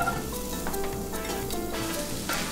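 Green pepper and sharp onion frying in hot oil for Cuban picadillo, a steady close sizzle with faint clinks of stirring throughout.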